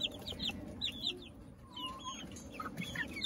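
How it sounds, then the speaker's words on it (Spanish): A large hen clucks softly and quietly among her chicks on a home farm, with high, thin chirps scattered through the clip. "Y hay una gallina grande aquí con ellos también."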